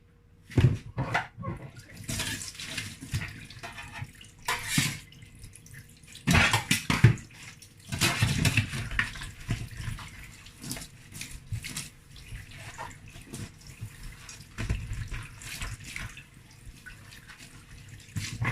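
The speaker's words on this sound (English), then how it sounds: "So if you wash fish in your sink, make sure you wash it nice and clean because of the bacteria." Tap water runs into a kitchen sink while mackerel is rinsed, an irregular splashing rush that swells and fades with drips and handling noises, close up and with no talking.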